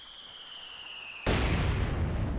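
A mortar fires in a real-time strategy video game: a thin high tone is followed by a sudden loud blast that sets off a broad, sustained rumble.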